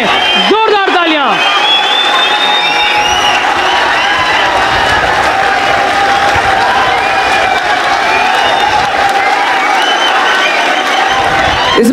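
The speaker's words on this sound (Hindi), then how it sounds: "सब एक बार खड़े होकर इस्तकबाल करें, इस्तकबाल करें, जोरदार तालियां" A standing audience at a poetry gathering at BHU claps and cheers loudly for Azhar Iqbal, a continuous close roar of applause with whoops and crowd noise, while a voice speaks briefly at the start.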